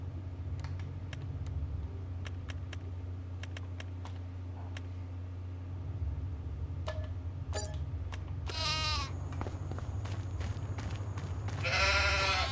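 Sheep bleating in Farming Simulator 25: a few short bleats near the end over a steady low hum, with sparse clicks, like keyboard taps, scattered throughout.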